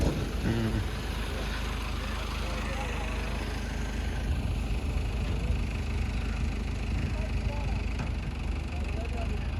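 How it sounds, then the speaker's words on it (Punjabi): A tractor engine, reportedly overheated, runs continuously at a steady low rumble, close and loud, with faint background noise over the whole stretch. "ਉਹ ਇੱਕ ਗਰਮ ਹੋ ਗਿਆ ਲੱਗਦਾ ਟਰੈਕਟਰ"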